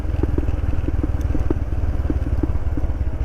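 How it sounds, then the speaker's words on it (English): A Royal Enfield Himalayan with an upgraded, louder exhaust and air filter idles with a throbbing rumble, broken by a series of sharp crackling pops and backfires from the exhaust. "It's kind of insane how easy it backfires."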